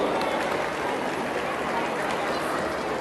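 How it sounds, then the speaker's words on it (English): Applause from a school audience fills the space, a steady wash of many hands clapping at moderate distance with a faint crowd murmur beneath, sustained without pause throughout. "A great round of applause for them."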